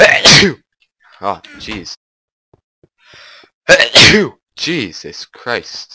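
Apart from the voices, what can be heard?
sneezes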